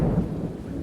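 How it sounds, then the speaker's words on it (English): Thunder rumbling low and steady with rain falling beneath it, a continuous deep storm roll in a fantasy tabletop story with no voices. "Lightning and thunder begin to slowly reveal themselves."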